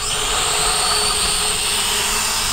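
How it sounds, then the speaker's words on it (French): A Hubsan H507A+ GPS drone spins up its motors and lifts off outdoors in wind, making a loud, steady high whine with broadband rushing noise throughout. "le drone se met à tourner et il va décoller tout seul"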